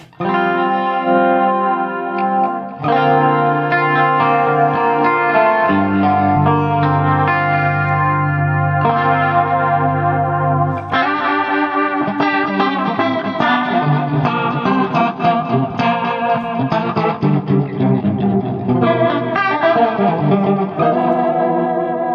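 Electric guitar played through a Leslie rotary speaker, its swirling warble speeding up and slowing down across sustained chords and melodic lines, loud and continuous with no voices.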